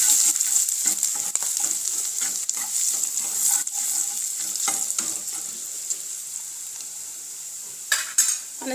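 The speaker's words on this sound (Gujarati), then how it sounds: "લીલા મરચાં, આદુ મરચાં લસણની પેસ્ટ, આ બધું સરસ રીતે આપણે સાંતળી લેવાનું છે." Green chillies and ginger-garlic paste sautéing in a little oil, a bright steady sizzle up close with frequent spoon-scraping stirs, loud at first and easing slightly toward the end.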